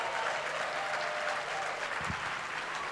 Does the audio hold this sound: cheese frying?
no